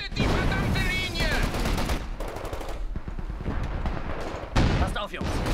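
Video-game gunfire from a Company of Heroes 2 battle: dense bursts of machine-gun and rifle shots crackle loudly and continuously, with louder impacts near the start and end, mixed under shouted soldier voices.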